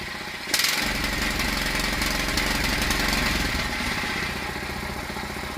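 A Honda GX160 go-kart engine with a carburetor clogged from sitting starts abruptly, then runs loud and close with a rough, rapid chugging that eases slightly toward the end.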